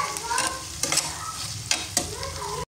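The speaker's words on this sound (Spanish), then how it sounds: "Aquí ya estoy friendo unos chiles para hacer una salsa." Chiles frying in a pan for salsa give a close, steady sizzle broken by sharp spatters and the scrape of stirring, with no voices.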